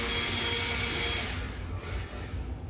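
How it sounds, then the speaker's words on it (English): A large leaf blower runs outdoors during yard work, a continuous loud whooshing roar that eases slightly partway through and then carries on. "in case you hear that giant leaf blower, that's what he's doing"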